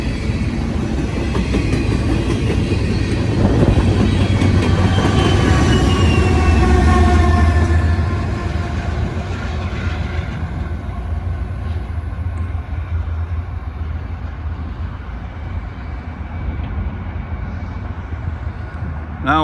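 A fast CSX or Norfolk Southern freight train with a DPU locomotive passes nearby: loud continuous rumble and wheel noise with squealing tones that ease slightly as the cars keep rolling by, with occasional talk underneath.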